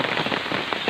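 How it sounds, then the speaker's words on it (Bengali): Steady rain patters densely on a surface in Jhenaidah where ducks are bathing, a close, even hiss with no voices or distinct bird calls standing out. "এই যে আমার হাঁসগুলা বৃষ্টির মধ্যে গোসল করছে"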